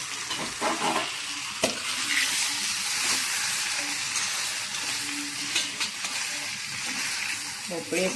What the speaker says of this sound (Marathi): तर आपण फक्त भाजी अशी वाफेवर शिजवून घेणार आहोत.